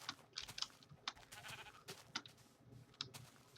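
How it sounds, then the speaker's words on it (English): Minecraft sheep bleat softly several times amid faint clicking keyboard taps, as the animals are punched in the game. "I'm gonna punch some more sheep."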